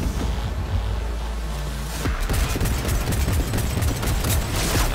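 Gunfire from an enemy in Cyberpunk 2077: a rumbling low drone gives way after about two seconds to a dense, continuous rattle of rapid shots that keeps going loud to the end.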